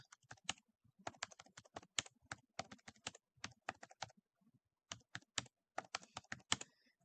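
Values are tapped into a calculator in quick, close, crisp key presses, coming in rapid bursts with short pauses between groups.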